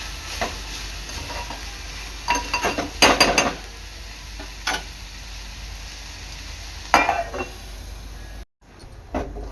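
Wild abai bean-pod vegetable being turned and stirred in a pan, heard as several short bursts of scraping and sizzling against a low cooking hiss, close by, with brief pauses and no speech.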